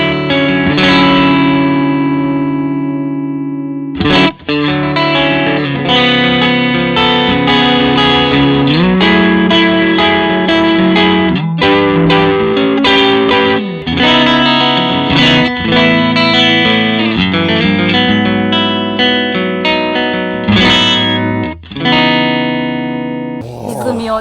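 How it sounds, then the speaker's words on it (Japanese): An electric guitar runs through a hand-wired overdrive pedal with a vintage-style, earthy drive. Thick, distorted chords and riffs ring continuously and loud, with brief pauses between phrases. "こっちはもう本当にいなたいオーバードライブ"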